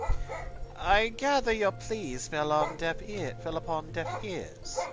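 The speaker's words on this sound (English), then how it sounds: "Sorry, that's my dog." A real dog barks and yips in a room while a video game character speaks, the short bursts tangled up with the dialogue and a low hum running underneath.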